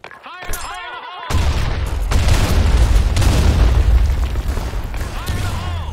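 Grenade blast in the shooter game Blackshot: a loud, booming explosion bursts in after a brief ringing, metallic chime and rumbles on as a continuous low roar with crackling debris for several seconds.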